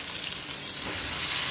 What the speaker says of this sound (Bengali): জিরে, শুকনো লঙ্কা আর জিরে গুঁড়ো, মানে তেজপাতা দিয়ে ফোড়ন চলে গেল